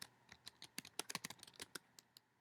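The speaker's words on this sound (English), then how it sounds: "I'm typing 2 sentences." Quick, light typing on a computer keyboard, a burst of crisp key clicks at an uneven rhythm, close and fairly quiet, with no talking.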